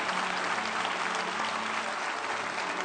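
A church congregation applauding during a Spanish-language sermon: dense, steady clapping from many hands filling the room, continuous and loud with a faint hum beneath.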